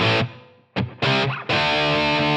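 Distorted electric guitar chords played through an amp modeler with the reverb decay turned way down, each strum cutting off abruptly into near silence before the next, then a sustained ringing chord.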